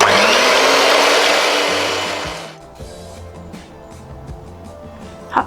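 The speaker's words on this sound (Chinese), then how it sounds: "接着我们就来打发蛋白" An electric mixer whips egg whites for a watermelon cake, giving a loud, steady high whir for about two seconds before it winds down and stops, leaving faint clinks and a soft knock.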